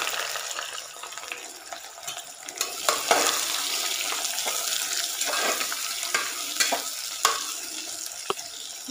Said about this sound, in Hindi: अब मैं इसमें डालूंगी प्याज को फ्राई करने के लिए।